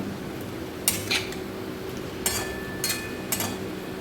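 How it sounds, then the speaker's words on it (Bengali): Chilli, cumin and coriander powder are stirred and fried in a pan, with a few sharp metallic scrapes and clinks of a utensil against the pan over a constant low background hum. "এটা দিয়ে একটু ভালোভাবে নাড়াচাড়া করে এটাকে একটু ভেজে নেব"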